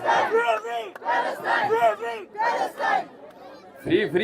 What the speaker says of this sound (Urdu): فری پاکستان کے نعرے لگائیں نا.